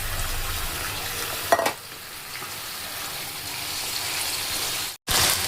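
Chopped spring onions hit a hot pan with a sharp burst of sizzling, then settle into a steady, close frying hiss that fills the clip, with a brief dropout near the end before the sizzle returns.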